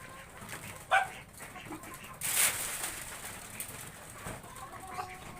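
Pigeons cooing softly in a loft, with a brief sharp bird call and a burst of wing flapping and rustling nearby over a steady background hum.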